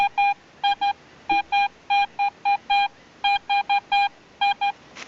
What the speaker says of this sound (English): I've got a solid 77, shallow scrape, and it's in that heap there. That's a fairly high tone target.